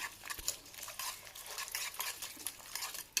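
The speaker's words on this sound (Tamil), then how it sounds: "நுர வர மாதிரி அடிச்சிடணும்" Eggs beaten briskly in a bowl until frothy for an omelette, giving rapid, continuous clinking and whisking taps, close but fairly soft, with no voices.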